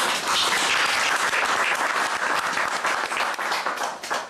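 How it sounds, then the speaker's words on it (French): An audience at a political gathering of the Congolese community in Belgium breaks into loud, dense applause, a close wash of many hands that holds steady for several seconds before tapering slightly. "Ça mérite des applaudissements."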